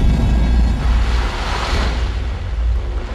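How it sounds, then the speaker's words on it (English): Pressurized gas blasts volcanic ash from Mount Vesuvius out of a cylinder in a loud, sustained broadband roar that stays dense throughout with no distinct onset. "Pressurized gas creates an explosion that ejects the ash."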